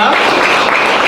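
A crowd of audience members at a church testimony service claps steadily and loudly throughout, a dense continuous wash of applause with no pauses.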